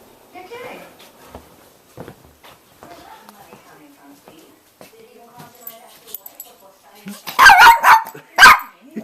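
A family's dogs bark in loud, close bursts near the end, following quieter rustling, footsteps and scattered household noise, with people talking.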